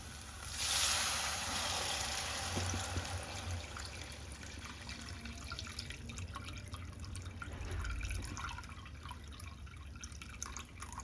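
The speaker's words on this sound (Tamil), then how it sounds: "இப்போ வந்து தண்ணி சேர்த்துக்கலாம்" Water is poured from a small vessel into a cooking pan for egg vermicelli, starting with a short gush, then trickling and dripping over a steady low background noise.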